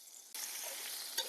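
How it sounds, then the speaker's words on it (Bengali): Cut potatoes seasoned with turmeric and salt hit hot oil in a pan, bursting into a sudden, steady hiss of frying that stays loud and even, with a brief stir near the end. "এখন এই যে কাটিয়ে রাখা আলুগুলো তৈলের মধ্যে ভেজে নেব"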